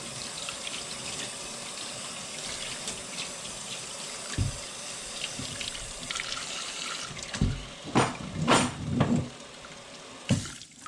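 Water runs steadily from a sink tap on cold, filling the sink to clean a K&N air filter, then several louder splashing gushes burst in near the end as the flow hits the basin.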